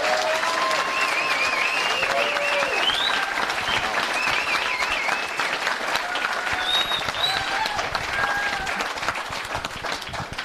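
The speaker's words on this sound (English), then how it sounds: "could we have a round of applause for our candidates here this evening?" Sustained audience applause and cheering at a Republican congressional candidates forum, loud and steady throughout with crowd noise layered over the clapping.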